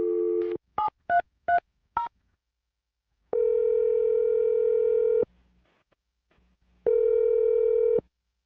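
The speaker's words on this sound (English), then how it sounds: "dial Manny's phone number right now and see what he has to say" A telephone gives a quick series of dialing tones, five short beeps in a row, and then two long ringback tones with a silent gap between them, close and clear with no talking.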